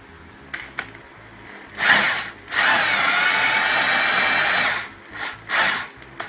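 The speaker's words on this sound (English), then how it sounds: "Just come over to the other side with the drill" A power drill whirs loud and close in a few bursts while working on a Mercedes W204 rear differential, one long steady run in the middle, then short trigger pulls near the end.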